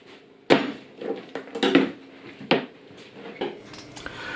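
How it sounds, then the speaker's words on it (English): Irregular knife strikes on a cutting board while chopping an onion, several sharp chops spaced unevenly, close by and with no talking. "Chop your onion."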